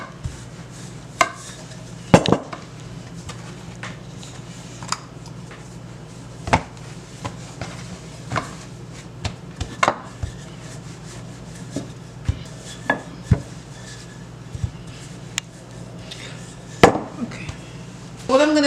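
Dough for sweet currant rolls is rolled out on a board. Soft rubbing and rolling sounds continue throughout, broken by scattered light taps and knocks of the rolling pin at close range.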